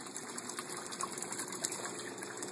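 Water draining from a PVC aquaponics grow bed, a steady close gushing and trickling wash that continues without break.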